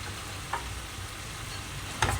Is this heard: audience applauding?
no